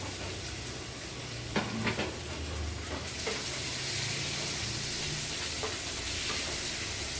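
Chopped tomato fries with softened onions in a pan for a Kerala egg curry, giving a steady close sizzle with occasional stirring scrapes and soft clinks throughout.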